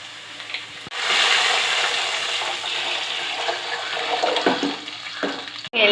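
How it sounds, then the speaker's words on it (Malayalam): A mix of ground coconut and water is poured into a cooking pot, making a loud, continuous rushing splash for about five seconds, followed by a sharp knock at the end. "തേങ്ങ അരച്ചതും വെള്ളവും എല്ലാം കൂടെ ചേർത്ത് ഉപ്പും എല്ലാം ചേർത്ത് വെച്ചിരിക്കുന്ന മിക്സ് ഒഴിച്ചു കൊടുക്കാം"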